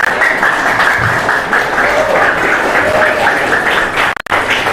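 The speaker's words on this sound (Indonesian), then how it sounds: "Jadi semakin kenceng kalian tepuk tangan," Students applauding at a grade 9 year-end graduation ceremony at an Islamic junior high school, loud sustained clapping from a large crowd filling the hall, with a brief dropout near the end.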